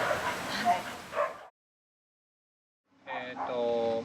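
Dogs at a dog shelter bark and yip in two bursts, a close cluster at the start and another after a silent gap, with a whining, whimpering tone toward the end.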